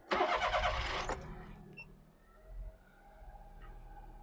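A Daihatsu Hijet kei mini truck starting from cold: a brief loud cranking burst of about a second, then the small engine catches and settles into a steady, fairly high idle.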